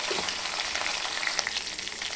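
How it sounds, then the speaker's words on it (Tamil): Curry leaves and green chili sauté in hot oil in a pan, producing a continuous, close, bright crackling sizzle that holds steady throughout. "கறிவேப்பிலை, பச்சை மிளகு அதுவும் இட்டு கொஞ்சம் வதக்கணும்"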